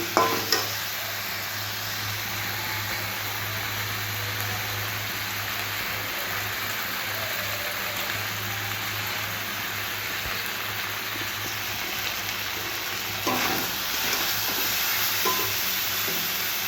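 Bengali fish curry cooks in a pan with a steady, fairly loud sizzle, while a spoon stirs it in the opening seconds and again near the end.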